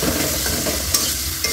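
Spice mixture for vegetarian bhog khichuri, with salt and sugar added, fried and stirred in a pan, giving a steady close sizzle throughout with a couple of light scraping clicks near the end.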